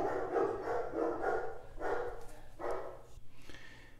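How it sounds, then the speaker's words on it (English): Several dogs barking repeatedly in the background, a run of bursts fairly close but moderately quiet, with no talk. "And if y'all hear a bunch of dogs barking in the background"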